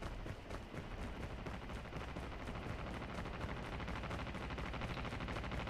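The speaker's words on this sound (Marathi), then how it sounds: "अजून पण फायरिंग होतीच." Rapid gunfire in a battle royale video game, a dense continuous clatter of shots with rhythmic bursts throughout, moderately faint under a busy background.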